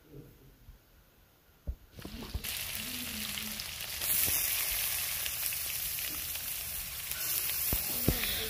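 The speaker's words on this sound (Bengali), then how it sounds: "এই তো কড়াই বসিয়ে তেল গরম করে আবারও আমি এখানে বাগার দিয়ে দিব।" Spices hit hot oil in a wok for a Bengali tempering while cooking: after a quiet start with a few clinks, a loud steady sizzle and crackle takes over and keeps frying close up, with faint stirring.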